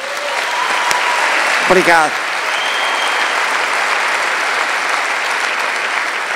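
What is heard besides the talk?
audience applause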